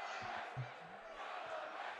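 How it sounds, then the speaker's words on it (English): Wrestling arena crowd chanting together during a match, a distant, dense roar with rhythmic low thumps of a welcome back chant, steady and fairly faint throughout. "We're getting a welcome back chant from the crowd right now."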